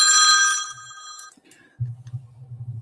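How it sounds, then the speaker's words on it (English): A bat phone's bright electronic bell rings loudly for about a second, then cuts off, leaving low rumbling handling noise as the receiver is picked up. "The bat phone, folks."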